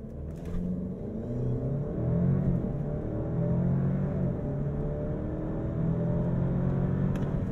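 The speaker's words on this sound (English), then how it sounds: "I'm going to pin the throttle and let go of the brake." A 2022 Alfa Romeo Giulia pulls hard at full throttle from inside the cabin, its engine note climbing steadily through the gears as a sustained, moderately loud drone with brief dips at each shift.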